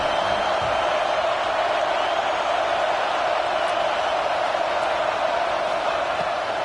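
A home crowd roars at an American football game as the defense tries to get off the field on third down, a steady, dense wash of cheering that holds loud and unbroken throughout.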